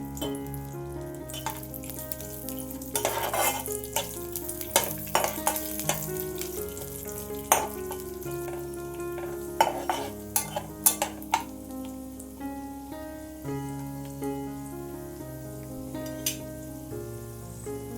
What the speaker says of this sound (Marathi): आता हे आपण हलकेसे परतवून घ्यायचे एक ते दोन मिनिटं